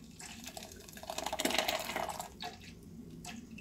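Blended spinach water, foamy from the blender, is poured through a strainer, giving a soft trickling and splashing that swells in the middle and then tapers off, fairly quiet with no talking.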